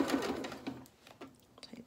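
A sewing machine stitches a small doll's shirt in short, rapid whirring bursts, loud at first and then tapering into brief stop-start runs, close and alone.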